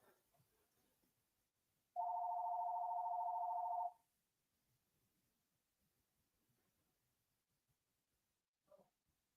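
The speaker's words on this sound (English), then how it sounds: "Jeez, this thing does not stop ringing." A telephone rings once in a quiet room, a single steady electronic tone lasting about two seconds that is clear and fairly close, followed by near silence with faint background noises.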